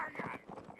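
Horses charge in the Mount & Blade: Napoleonic Wars video game, a brief, faint patter of galloping hooves under a voice.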